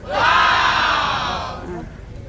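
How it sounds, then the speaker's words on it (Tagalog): A crowd of people shouting together outdoors in a rural Philippine setting, a loud sustained burst of many voices that swells quickly, holds, then fades over about two seconds. "Sigawan dito mga tao."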